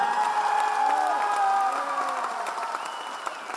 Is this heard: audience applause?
yes